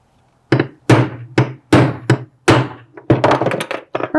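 Long rivet driven out with a hammer striking a socket, a rapid series of about ten loud, sharp metallic thunks, close up, with no talking.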